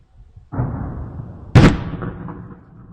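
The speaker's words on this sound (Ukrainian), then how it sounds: "Близько 23-ї години у Херсоні прогреміли потужні вибухи у районі Антонівського автомобільного мосту." Powerful explosions near the Antonivskyi road bridge in Kherson at night: a distant rumbling blast is followed a second later by a sharper, louder boom that rolls off into a fading echo.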